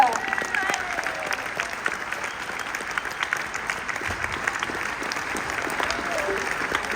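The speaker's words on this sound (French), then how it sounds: "un tonnerre d'applaudissements pour Monsieur Jimmy Blanchette" An audience at the Zénith in Limoges claps continuously, a steady wash of applause that holds at even loudness throughout with a few voices mixed in.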